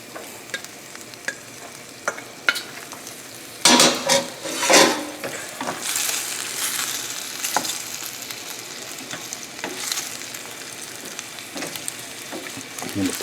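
Hot bowtie pasta is stirred with octopus in a sizzling pan, with scraping utensil strokes and louder clattering bursts over a continuous fry, close by.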